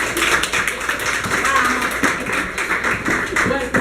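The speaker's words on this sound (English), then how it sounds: "please give her a round of applause," A round of applause for a speaker at an arts announcement event, clapping from a modest crowd with sharp individual claps audible, steady and close throughout.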